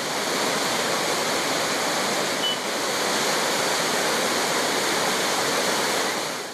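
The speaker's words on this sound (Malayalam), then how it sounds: "മൂലത്തറ സ്പിൽവേയും കടന്ന് രാവിലെ 8 മണിയോടെ ചിറ്റൂർ യാക്കരപ്പുഴകളിലേക്ക് വെള്ളം ഇരച്ചെത്തി" Rushing river water surging downstream after a dam spillway was opened, a loud, steady broadband roar close by that holds unbroken throughout with no voices.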